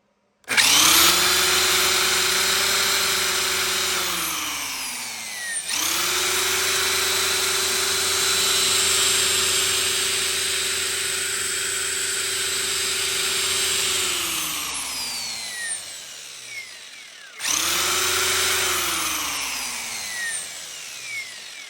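A 12S RC electric helicopter's motor on a WBP 16S 120A AM32 ESC spins up quickly in idle-up mode into a loud, steady high whine. The whine winds down, restarts, and repeats with no talk.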